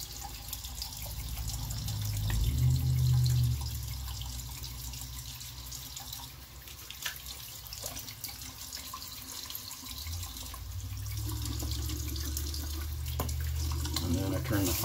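A bathroom sink tap runs while shaving lather is rinsed off, a steady gushing stream with splashing that swells and dips as hands move through the water, fairly close to the mic.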